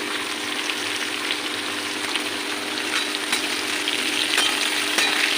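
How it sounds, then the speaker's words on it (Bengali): Tomato, ginger and spices fry in hot oil for a katla fish curry with taro, giving a constant close sizzle and crackle with faint stirring scrapes throughout. "সামান্য ভাজা ভাজা হোক তারপরে লবণ হলুদ দেবো এবার এর মধ্যে দিয়ে দেবো টমেটো"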